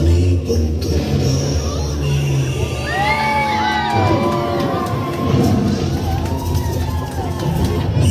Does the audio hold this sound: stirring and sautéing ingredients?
no